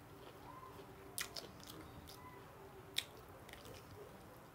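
Food crunching while eating: a few sharp crunchy bites close to the mic, a cluster near the start and one louder bite later, over a quiet background with no talking.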